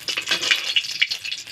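Cumin seeds, dry red chillies and bay leaf fry in hot oil in a kadai, giving short bursts of crackling and spitting that rise and fall over a brief moment.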